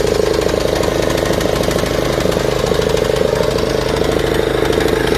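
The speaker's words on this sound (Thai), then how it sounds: "สตาร์ทใหม่เครื่องยนต์ Honda สตาร์ทติดง่าย" A Honda engine on a used snow blower and tiller machine runs steadily after a restart, a loud, close, rapid chugging idle with no talk.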